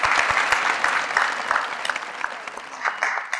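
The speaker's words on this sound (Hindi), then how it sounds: "भरपूर तालियों में शो शुरू करते हैं" Studio audience applause greets the opening of a Pakistani comedy talk show, a dense, steady burst of clapping that carries through and thins slightly toward the end.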